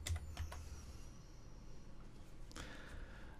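A few soft clicks from a computer keyboard as CSS is typed, a quick cluster of taps at the start and another near the end, faint and close.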